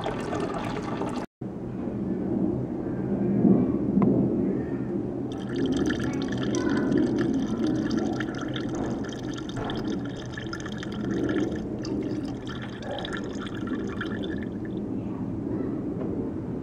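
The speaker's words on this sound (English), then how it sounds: "throwing it off into the fermenter. So yeah, just going to fill up the fermenter" Beer wort for a sour ale pours into a fermenter, a continuous splashing, gurgling fill with dripping, close and fairly loud, running steadily for the whole stretch after a brief cut near the start.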